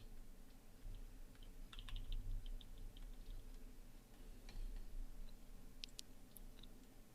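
Light keyboard clicks tapped out in short, scattered bursts as arrow keys nudge an image on a computer, the keystrokes soft and close over a low room hum, with no talking.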